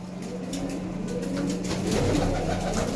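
Several pigeons of an old Bhucho breed coo steadily inside a pigeon loft. The soft, overlapping calls are close and continuous, with no talk over them.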